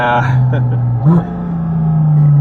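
A Porsche GT4 RS engine drones steadily under a speaking voice, with one quick rev blip of a downshift partway through before the note settles again.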